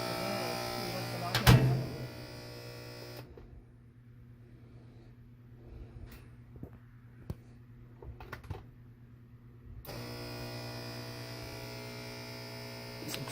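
Faulty MDTECH washing machine, wire pulled, attempting drain and spin: a steady electrical hum with a sharp clunk early on, then a quieter stretch of scattered ticks and knocks before the hum returns.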